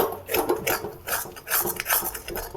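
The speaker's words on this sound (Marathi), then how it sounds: "आता ही कढईतलं सगळं पीठ चमच्याने असे खरडून काढून घ्यायचं" A metal spoon scrapes cooked gram-flour dough from a wok for patwadi, repeated rasping strokes coming in uneven bursts, close and fairly loud with no talking.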